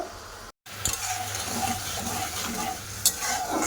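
A spoon stirring sugar and water in a pan over the gas to make thick syrup, a steady bubbling sizzle with soft scraping and a couple of sharp clinks against the pan.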